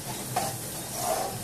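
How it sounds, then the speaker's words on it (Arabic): Liver being stirred with spices and onion in a pan, a soft scraping stir with a faint sizzle underneath, steady and close with no voices. "غادي نخلط مزيان هاد الكبده مع هاد العطريه والبصله"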